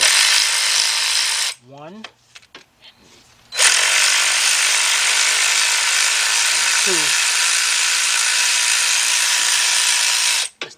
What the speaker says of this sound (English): Let's take those two bolts out